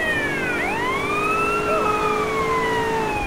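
Wailing police car siren in a video game, continuous and loud with rising and falling sweeps over steady traffic or engine noise, no talk.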